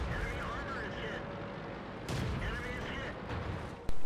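A tank's cannon fires in a tank battle game, a sharp loud blast cutting through low engine rumble, followed by another abrupt shot near the end; a player talks over the game sound.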